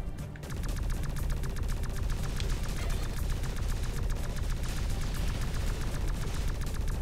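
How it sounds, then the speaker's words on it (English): Heavy alien gunfire rattles in the video game X-Morph: Defense, a loud, rapid, continuous stream of machine-gun-like shots that kicks in after a brief quiet moment and keeps going without pause, with no talking. "We're taking heavy alien fire."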